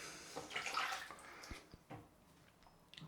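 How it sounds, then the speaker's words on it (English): Water from a tap splashes briefly onto a shaving brush, a short close burst of running water followed by a few light drips and knocks. "Let's get some water on this"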